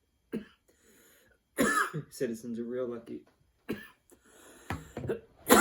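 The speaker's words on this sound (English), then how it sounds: "Who knows how this coughing sounds like on here." Several harsh coughs and throat clearing break up a man's speech, with bursts of noisy breath between phrases.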